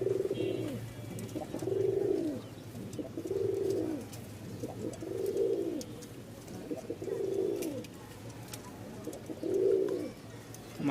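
A matched pair of Rajshahi Giribaj pigeons coo steadily, with six rounded, close-up coos spaced about two seconds apart over a constant low background hum and no speech.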